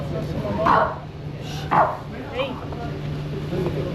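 A dog barks a few times, sharp yips spaced apart and fairly near, with people talking in the background.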